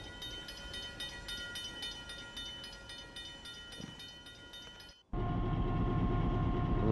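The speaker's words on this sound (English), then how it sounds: "And here comes another one of our Dash 9," A Dash 9 locomotive, number 4403, hauls a mile-and-a-half-long coal train. A lighter rolling clatter gives way to a sudden, much louder and sustained rumble as the train passes close by.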